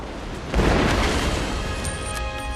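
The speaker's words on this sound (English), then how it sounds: "So Vasily, timing the shots with the sound of explosions, takes down 4 enemies" A deep boom bursts in suddenly, followed by a sustained rumbling roar that slowly trails off.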